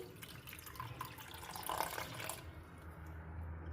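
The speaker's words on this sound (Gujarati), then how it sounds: "એ જ કપ લેશું અને પાણીથી ભરી દેશું" Water runs steadily from a tap into a cup for making a semolina batter, a continuous trickling fill that brightens midway then settles to a low hum near the end.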